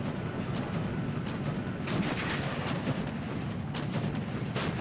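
Mortar fire in Steel Division 2, dull distant thuds and scattered cracks of gunfire over a low, steady rumble of battle, moderately loud, no voices heard.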